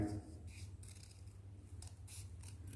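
Scissors snipping through folded paper for a kids' craft, a few quiet crisp cuts in a short sequence close up, with no talk.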